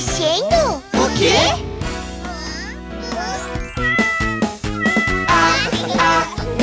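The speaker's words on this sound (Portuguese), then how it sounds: "O gato está na caixa." A cartoon kitten in a box gives repeated high, drawn-out meows mixed into a children's song with bright music and sung voices, all loud and close.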